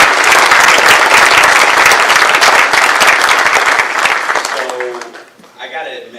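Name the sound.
applause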